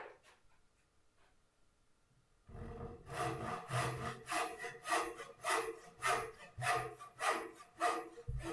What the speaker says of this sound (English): We're using the full length of the tenon saw here to make best advantage of the teeth